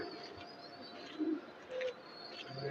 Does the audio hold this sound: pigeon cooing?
yes